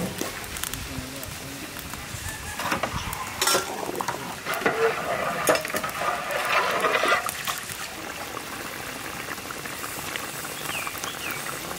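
Fried katla fish slides into a pot of simmering curry, with bubbling, soft stirring and metal pot clinks as a person talks over the cooking.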